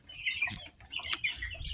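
Free-range village chickens cluck and call in a quick series of close, fairly loud, uneven bursts, with no voices heard.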